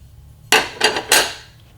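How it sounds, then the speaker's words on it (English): Small metal primers rattle and clatter as they are flipped into a primer reloader tray, giving three quick loud shaking bursts close up, one after another, with near silence before and after. "when I flip them over into my primer reloader"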